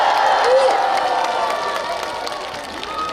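A crowd at a Hongcheon town community festival cheers and shouts loudly, with scattered clapping and a rising whistle-like cry, the roar fading slightly toward the end.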